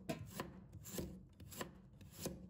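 Knife slicing peeled ginger on a cutting board, four evenly spaced, crisp chopping strokes, close and quiet with no talk.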